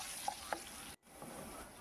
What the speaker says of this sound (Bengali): দেখুন এখানে আমি আলুটা ভেজে নিচ্ছি।